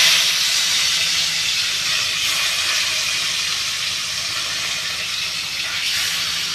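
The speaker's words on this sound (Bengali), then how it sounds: "আমি মাছ ভাজা করছি।" Fish frying in a pan, a loud, continuous hissing sizzle that stays steady and close throughout with no voices.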